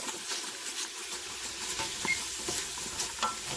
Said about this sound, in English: I'm sauteing the onions and the garlic in the oil.